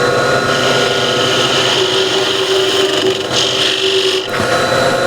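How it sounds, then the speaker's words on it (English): A tool works steadily across a wooden cross grain box, a loud continuous rasping abrasion close by with a brief dip near the end. "I don't fancy sanding this too much"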